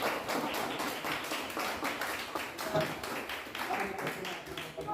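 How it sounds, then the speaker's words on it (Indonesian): A classroom of students claps together, a quieter, somewhat distant patter of hands in a loose rhythm, with voices and chatter mixed in. "Tepuk tangan untuk kita semua"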